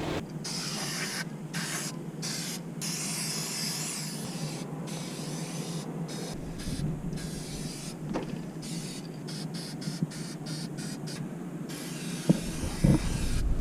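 Spray-on rust converter hisses out of a can onto a metal beam in repeated bursts. The longer sprays are broken by short pauses and quick taps near the end.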